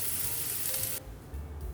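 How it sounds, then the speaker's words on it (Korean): Beef brisket sizzling in a pot over a gas stove, a bright continuous hiss that cuts off suddenly partway through, leaving a low rumble, with no talk. "가스불 켜고 우삼겹을 먹고 싶은 만큼 넣어준다."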